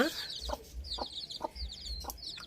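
Country chickens kept on a house terrace clucking nearby in a steady series of short repeated calls, with faint chirping birds and low background rumble; no talking.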